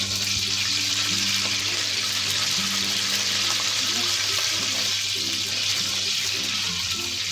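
Ghee is heating in a pot for chicken nihari, a loud, steady, close sizzle and crackle that runs without a break, with no talking heard.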